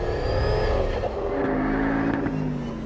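A Donkervoort D8 GTO sports car with an Audi engine of about 380 brake horsepower drives past at speed, its loud engine roaring steadily, then shifting pitch as it changes gear, with no voices.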